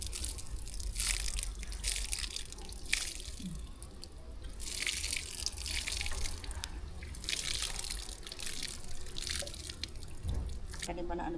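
Water is splashed and poured onto garden soil in irregular bursts and dribbles, moderately close, while people talk quietly in the background.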